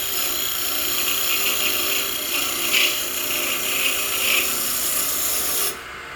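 A wooden top of hard maple shaved lightly on a lathe, giving a steady close rasping whir with a few brief scraping swells before it cuts off near the end.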